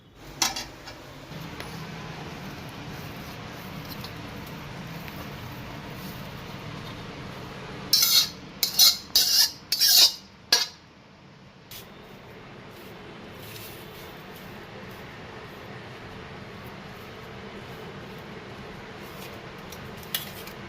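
Sukhadi, made from ghee-roasted wheat flour with jaggery and milk cream, being transferred into a dish, with a short burst of sharp utensil clinks and scrapes in the middle against a quiet background.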